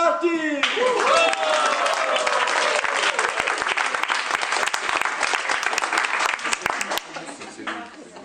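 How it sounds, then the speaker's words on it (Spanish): Party audience at a festive gathering breaks into loud, dense applause and cheering that fills the room continuously before tapering off near the end. "tenéis que escuchar un gran aplauso para"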